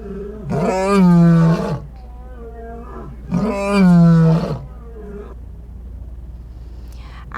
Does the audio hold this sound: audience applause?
no